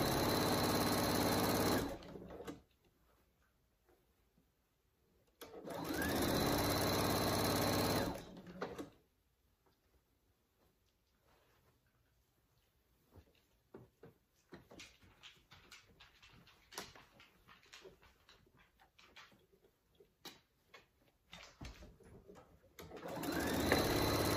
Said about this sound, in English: I'm going to turn it and sew around the curve for the front of the bag. You're just top stitching all the way around.